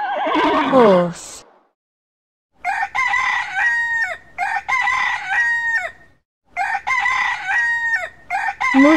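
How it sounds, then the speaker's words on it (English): A horse gives one loud, close whinny that falls in pitch. After a short silence, a rooster crows several times in a row, each crow loud and sharp. "Ghoda. Horse."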